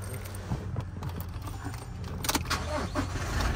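Key start of a 2021 Toyota Fortuner GX diesel: a rumbling idle that steadies and carries on with a few clicks and rattles over a low, continuous engine drone, heard close up.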